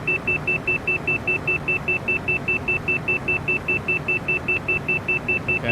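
A steady, rapidly repeating high cockpit warning beep in a Cessna Citation CJ4 flight simulator, sounding continuously and evenly over engine and cabin rumble with no talking.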